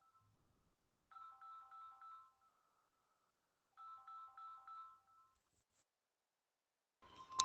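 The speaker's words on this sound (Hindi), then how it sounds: "कहीं से फोन आ गया है" A phone ringtone chirps in two separate bursts of repeated electronic trills, clear and fairly close, with near-silence between them and a brief noisy rustle at the end.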